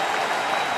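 A baseball stadium crowd applauds in one short, even burst of clapping during a strikeout run.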